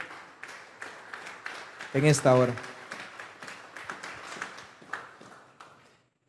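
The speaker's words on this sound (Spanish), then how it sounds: "Vamos a darle una ofrenda de palmas a Dios" A congregation at a Sunday afternoon church service claps hands in a steady rhythmic beat, the claps crisp and continuous under a voice speaking over them.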